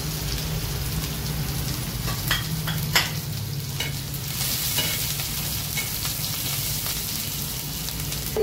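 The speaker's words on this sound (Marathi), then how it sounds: "आपण लसूण मिरची छान परतली आहे" Garlic and green chilies sizzle and crackle steadily in hot oil for spinach or fenugreek greens, with occasional stirring scrapes over a continuous close frying hiss.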